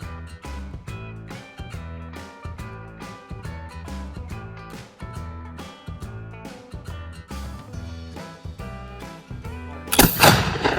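A single loud black powder rifle shot cracks near the end, at an outdoor shoot, over steady rhythmic background music.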